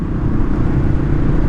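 A very old motorcycle rumbles steadily as it rides over a large pothole, a loud, continuous low engine and road drone with no voices.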